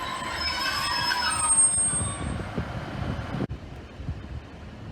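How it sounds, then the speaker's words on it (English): A Northern Class 150 diesel unit arrives at Liverpool South Parkway station, rumbling and rolling close by with a high wheel squeal that fades, plus wind buffeting the microphone and an abrupt thump near the end. "Arriving in now is the 1339 Northern service from Manchester Oxford Road to Liverpool Lime Street."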